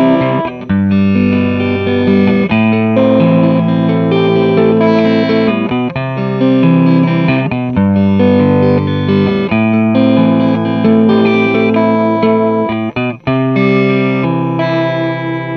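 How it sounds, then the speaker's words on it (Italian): Fender Telecaster U.S.A. played with the fingers on the neck pickup, clean tone edging into slight crunch, a continuous loud passage of strummed chords and picked notes with steady rhythm, close and without talk. "è bello anche come suono clean che va leggermente sul crunch perché ho messo il volume della chitarra un po' più puntato"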